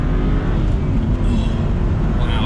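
BMW 1M engine pulls hard and loud from inside the car, a dense steady roar holding its pitch across a short burst with no talking over it.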